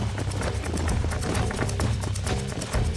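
Hooves pound in a fast, steady gallop in the Western video game Red Dead Redemption, loud and close, with a brief horse snort mixed in.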